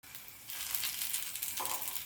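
Spiced colocasia leaf pakoras, coated in a rice, lentil and masala paste, frying in hot oil in a pan, with a steady close sizzle and crackle that swells after a moment and continues throughout.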